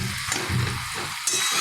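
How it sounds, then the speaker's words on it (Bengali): Water spinach sizzling in a pan with garlic and onion, a steady close hiss with soft stirring scrapes throughout. "কলমি শাক ভাজা একটু ঝাল ঝাল তো বেশ, রসুন পেঁয়াজ দিয়ে"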